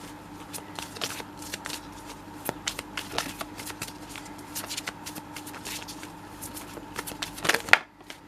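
Tarot cards handled and drawn one after another, with crisp riffling and snapping flicks close up in an irregular rhythm over a soft steady hum, ending in a sharper slap.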